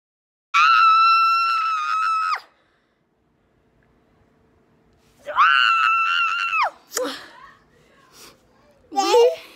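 A child screams inside a house in long, loud, sustained shrieks, a pause, then more screaming and high squeals mixed with shouted voices.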